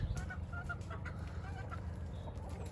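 Hens, including a black hen, cluck in short repeated bursts at morning feeding, close and continuous, over a low steady background hum.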